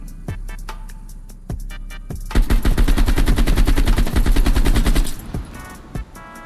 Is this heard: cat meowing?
no